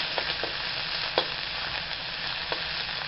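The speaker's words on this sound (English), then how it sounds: "We're gonna saute this up." Seafood stew ingredients sautéing in a wok give a steady broadband sizzle and fry hiss, with a few soft stirring clicks scattered through it, close and moderately loud, with no voices.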